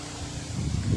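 A brief, low, rumbling gust of strong wind from Typhoon Kristine buffets the microphone and swells slightly toward the end, with no speech.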